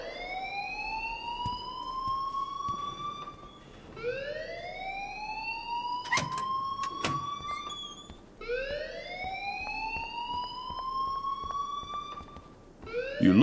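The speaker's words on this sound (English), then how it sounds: "please turn off that alarm since that's your job" Wailing siren-like alarm in the video game Life is Strange Remastered, rising sweeps repeating about every four seconds, with a few sharp clanks partway through, steady and loud with no talk.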